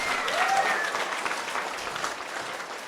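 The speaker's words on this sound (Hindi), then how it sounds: "जोरदार तालियों के साथ इस्तकबाल कीजिए।" Audience applause at a live memory training event in a wedding hall, dense steady clapping from a crowd, close and continuous throughout.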